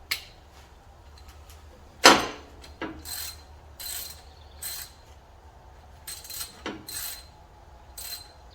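Ratchet clicks come in short bursts as bolts are tightened on a 1971 Buick 455 water pump, close and crisp, with one sharper metallic clank and pauses between strokes; no talk.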